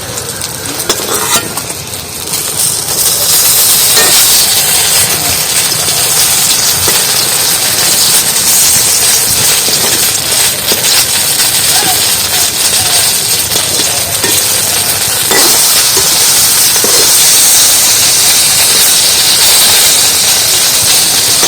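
Eggplant (brinjal) slices fry in hot oil with a loud, steady sizzle and hiss that lasts throughout. There is occasional faint clinking as they are turned in the pan.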